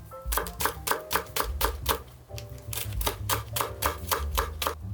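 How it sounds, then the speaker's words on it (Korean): A knife thinly slicing Korean scallions on a cutting board, rapid steady tapping chops in quick even rhythm, close and crisp with brief pauses between runs. "쪽파 손질은 뭐 별거 없습니다. 어차피 토핑용으로만 사용할 거기 때문에 그냥 얇게 썰어주시면 돼요."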